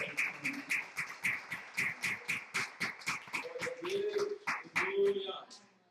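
Rhythmic, steady clapping during a church worship service, a dozen or more evenly spaced claps per few seconds, with voices talking or singing over it and a sustained tone toward the end.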